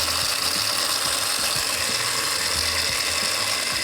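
Blender grinding pumpkin seeds into pesto, a loud steady whirring grind that runs continuously without a break.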